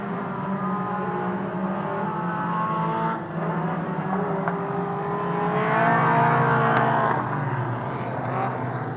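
Street stock race cars at Farmer City Raceway during a Hornet heat race drone steadily at full throttle, engines layered and continuous with a slight swell as cars pass, loud and unbroken.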